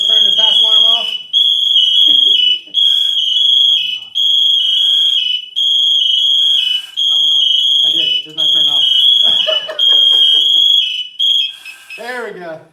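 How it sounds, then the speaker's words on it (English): A firefighter's PASS alarm shrieks loudly and continuously during a fire prevention day demonstration, a piercing high electronic tone pulsing in long bursts while people talk over it. "So let's turn the pass alarm off."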